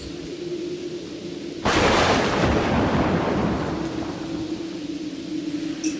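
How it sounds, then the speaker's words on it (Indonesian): A single loud thunder clap bursts in suddenly and rolls on as a long rumble, fading slowly over steady background noise, heard alone with no voices. "Tiba-tiba terdengar suara petir yang menggelegar"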